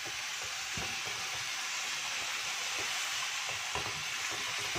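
Chicken frying in oil with the oil separating, a soft continuous sizzle with occasional stirring scrapes, fairly quiet and steady with no voices.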